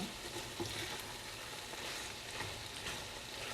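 Green curry macaroni with basil stirred in a pan, a soft steady sizzle with faint scraping of the spoon, quiet and continuous with no voices.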